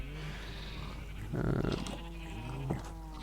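Sheep bleat among cows and pigs in a Minecraft farm, a few drawn-out game animal calls, fairly quiet and close, with no talk over them.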